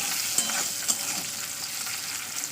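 An egg fries in a pan with a constant hissing sizzle and a couple of small pops, heard close and with no speech.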